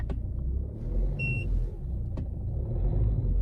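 Engine of a Peugeot 3008 revving while stationary during a front ABS sensor replacement, a low rumbling idle that swells briefly, with a short electronic beep partway through and a close, steady drone throughout.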